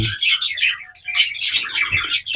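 A parakeet chick with splayed legs chirps in rapid bursts of high, thin calls, close and fairly loud, with short pauses between phrases.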